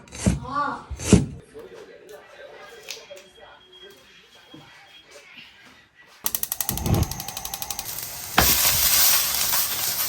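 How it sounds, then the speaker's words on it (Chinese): Pork belly pieces drop into hot oil in a wok and stir-fry, a sudden loud crackling burst that swells into a heavy, close sizzle, after a few quiet seconds with a voice speaking. "锅中烧一点油，把五花肉下进去，给它煸一下，煸出油脂。"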